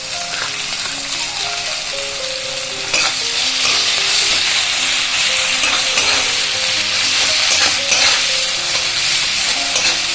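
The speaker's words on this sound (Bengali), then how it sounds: "সেই পেঁয়াজটা আমি দিয়ে দিচ্ছি" Medium sliced onion sizzling in hot spiced oil in a pan, a steady close frying hiss broken by the scrape and clatter of a spoon stirring now and then.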